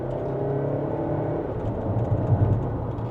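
A 2026 Dongfeng Aeolus Mage SUV accelerates hard with the pedal floored, giving a steady low whir and rumble from the cabin that swells slightly toward the end, with no talking.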